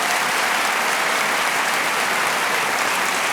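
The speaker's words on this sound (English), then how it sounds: "Please join me in offering another round of applause for Mr." Dense, steady applause from a large audience honoring an alumnus at a school convocation, holding at full strength for the whole stretch without any voices.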